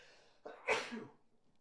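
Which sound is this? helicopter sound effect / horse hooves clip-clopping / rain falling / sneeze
sneeze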